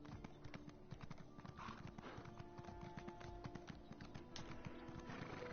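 Steady clip-clop of horse hooves trotting at an even rhythm in the video game The Elder Scrolls Online, close by, with a faint hum of game ambience beneath.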